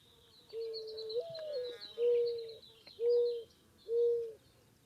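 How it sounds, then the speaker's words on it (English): A mourning dove coos softly in a slow series of low, hollow notes, a drawn-out opening call followed by three evenly spaced single coos, with faint chirps behind. "mourning doves, their call sounds a lot like they're mourning"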